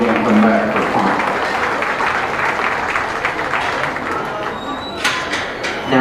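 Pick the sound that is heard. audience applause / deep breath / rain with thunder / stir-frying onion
audience applause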